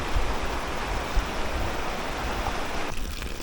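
Fresh water flowing steadily in a stream at a hillside nature spot in Sta. Cruz, Murcia, Negros Island Region, Philippines, a continuous close rushing wash with no talk.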